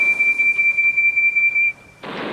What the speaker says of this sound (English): He rolled up behind Harry and Bert, took an extra big puff and blew as loudly as he could